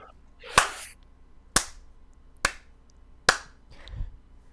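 One person gives a slow clap inside a closet-like room, four sharp, evenly spaced claps ringing out close and distinct against near silence, followed by a soft thud.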